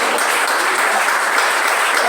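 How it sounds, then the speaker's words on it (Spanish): Applause from a church congregation during an evangelical sermon, a dense, steady wash of many hands clapping at once that holds at full strength for about two seconds before cutting off abruptly. "Denle un fuerte aplauso al Señor."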